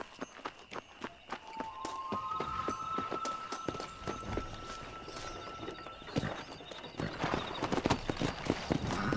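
A horse in the video game Red Dead Redemption setting off at a run, with rhythmic clip-clop hoofbeats that start sparse and quicken into a gallop, plus a brief whinny early on and saddle rustle under the hooves.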